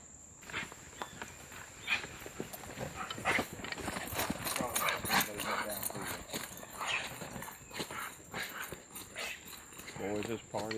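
Bay dogs chase a big red wild boar on a hunt, barking in scattered bursts amid trampling footfalls, with people talking over the commotion.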